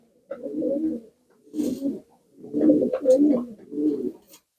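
Pigeons coo nearby in five soft, low, throaty calls separated by short pauses, with no other sounds around.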